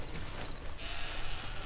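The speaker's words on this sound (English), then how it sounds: "The goats hear it too. That's why they're hollering." Farm goats bleating and hollering for feed at feeding time, a dense, continuous outdoor din of overlapping calls, fairly loud and close.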